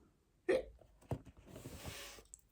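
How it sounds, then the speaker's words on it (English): A few short, faint hiccups sound in quiet surroundings, one sharp catch near the start and another a moment later, followed by a soft breathy rustle. "He was starting to feel like he would never get rid of his hiccups."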